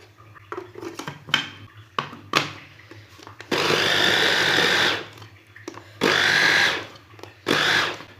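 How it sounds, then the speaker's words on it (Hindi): Kitchen mixer-grinder pulsing boiled, cooled spinach in short bursts: three loud whirring runs of about a second or more, separated by quieter clatter and handling sounds. "पालक को मैंने 5 मिनट के लिए ठंडा कर लिया है। अब इसे ग्राइंड कर लेंगे।"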